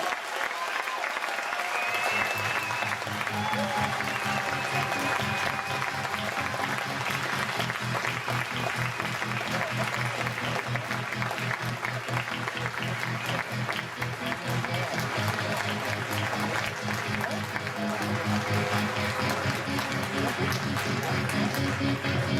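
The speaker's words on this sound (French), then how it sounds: "Sous vos applaudissements." Loud, continuous applause from a festival audience at the 2007 Gérardmer fantastic film festival during an onstage tribute, filling the room for the whole stretch with a dense, unbroken patter.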